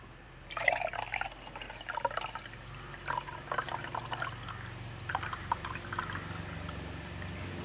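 Tamarind water is poured into a bowl to make an organic fertilizer for orchids, with soft splashes and trickling bursts close by against a quiet background, and no speech.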